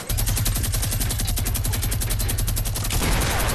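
Rapid automatic gunfire from a video game rattles out in a fast, steady burst of sharp shots, loud and close, followed by a brief noisy tail.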